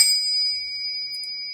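A single bell rings out once during a reading session, a clear, bright ding that hangs on as a long, pure tone and fades only slightly.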